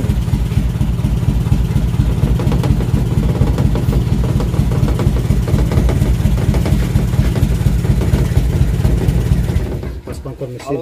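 A Colt T120 van engine idles close up with a loud, rough, rhythmic low chugging that runs steadily before cutting off near the end, with a voice briefly audible.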